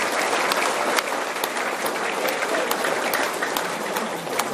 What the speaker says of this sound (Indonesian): Kita boleh tepuk tangan.